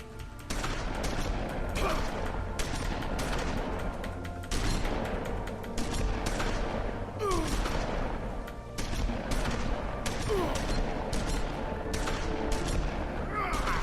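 Sustained, loud shotgun fire in The Wolf Among Us video game, with a dense barrage of repeated blasts and booms running continuously with no break throughout.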